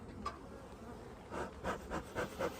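Honey bees buzz around a nuc hive close by, several rising and fading passes of droning wingbeats, quiet, with no one speaking.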